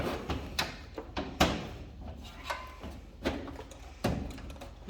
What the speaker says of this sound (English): Okay, the door is back on.